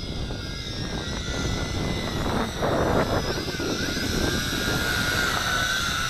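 Tarantula X6 quadcopter drone in flight, its motors giving a steady high whine with shifting pitch, heard close and alone.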